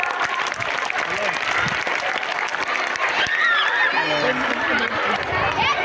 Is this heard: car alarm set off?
no